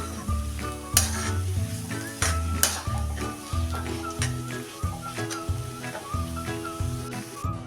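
Coriander and grated coconut being stirred into dry gram-flour pithla in a pan, a steady scraping and stirring with a faint sizzle and a few sharp clinks of the spoon against the pan, close and continuous, with background music throughout.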